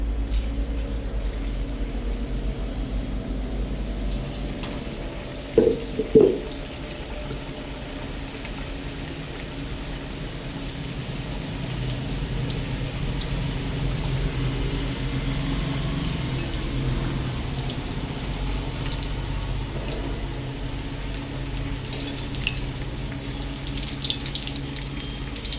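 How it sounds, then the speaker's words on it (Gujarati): Spring rolls deep-fry in hot oil with a steady, close crackling sizzle that runs throughout, interrupted once by a couple of small clinks. "બાકીના રોલ પણ આ રીતના તળી લેશું."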